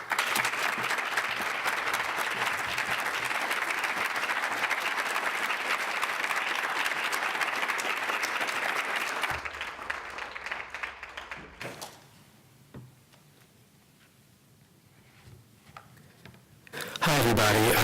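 An audience applauds to welcome author Jamel Brinkley at a reading, sustained dense clapping for about nine seconds before thinning out and fading into a quiet room.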